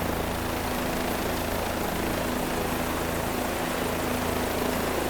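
Helicopter engine and rotor in Microsoft Flight Simulator, a loud, steady, dense broadband roar with a constant hum that runs unbroken throughout and has no talking.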